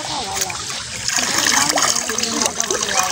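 Water and fish tipped out of a China net trap during fresh rainy-season water, giving a close, splashing trickle and pour that swells in the middle, with a faint voice.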